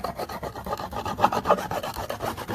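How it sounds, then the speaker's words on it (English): Swarm lure wax is rubbed onto a wooden hive lid in a quick run of close, quiet rasping strokes, each scrape short and gritty and repeated rapidly with no speech. "you don't want to rub it in like that"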